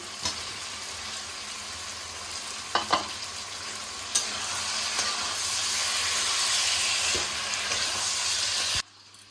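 Fried potatoes sizzle in a pan with peas and cashews for a potato paneer biryani. A steady frying hiss swells through the middle, a few sharp utensil clinks cut in early, and the sound stops abruptly at the end.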